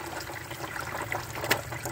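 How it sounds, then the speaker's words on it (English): Water trickling and dripping out of the oil pan of a 1953 Ferguson tractor, a soft continuous dribble with a few brighter splashes, close and without talking. "Already we got water dripping out."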